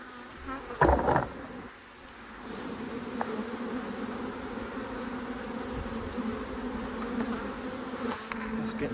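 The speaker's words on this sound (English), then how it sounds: "They reckon that the sound of a colony is meant to be quite relaxing" A five-year-old honey bee colony being relocated fills the air with a dense, steady swarm buzz that holds throughout, broken early by a few louder bumps and scrapes nearby.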